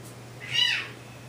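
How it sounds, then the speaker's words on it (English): A single short domestic cat meow rises and falls indoors, faint and somewhat distant over a low steady hum. "I hear my cats."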